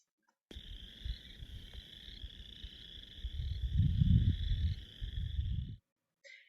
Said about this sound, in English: it just sounds like a symphony of frogs